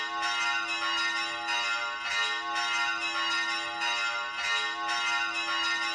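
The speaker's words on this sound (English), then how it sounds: "They have time for the world's shittiest wedding bells." Wedding bells in the video game Dark Cloud ring in a steady, repeating metallic peal, loud and close, with pulses recurring about every second and a half and no talking over them.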